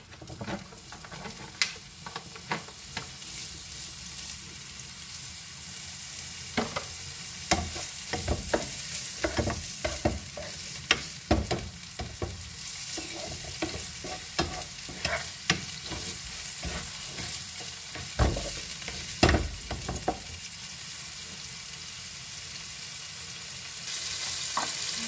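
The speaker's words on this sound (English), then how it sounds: "First, I put bacon, a cube bacon." Cubes of bacon frying in a pan for Cantonese-style rice, a steady close sizzle with crackling pops and occasional stirring scrapes throughout, no voices.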